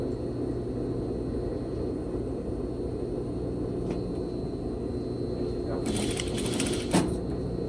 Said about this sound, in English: I'm just going to quick sew right over top of that seam.